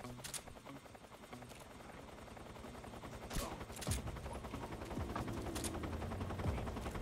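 Tranquilizer gun shots sound in Metal Gear Solid 3, several sharp short bursts spaced irregularly over a low droning game background that slowly grows louder.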